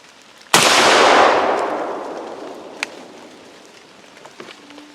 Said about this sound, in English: This is the 20-yard shot with the Rio Blue Steel number 4 shot.